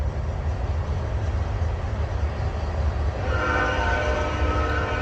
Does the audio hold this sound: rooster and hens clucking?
no